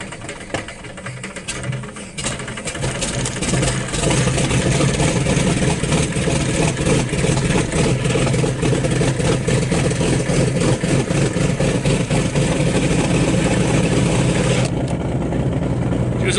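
An Aero Commander 520 piston aircraft engine catches after a brief cranking and settles into a loud, steady, rough idle that runs continuously close to the microphone, then eases slightly near the end.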